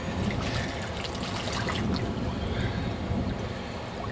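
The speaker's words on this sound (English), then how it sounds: "See all that air escaping?" Air bubbles up out of a submerged A.L.I.C.E. pack through shallow water in a steady gurgling, burbling stream, close by and continuous, with a faint outdoor hiss around it.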